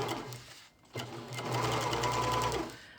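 Serger trimming about half an inch of seam allowance around a shoulder pad on a Pendleton '49er shirt, a fast whirring run that starts, pauses briefly, then restarts and hums steadily.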